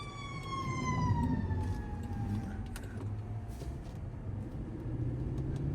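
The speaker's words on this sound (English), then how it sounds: "So we got a fire truck coming." A fire truck siren wails and slowly falls in pitch as it passes a residential street, heard over steady road and engine noise at moderate distance.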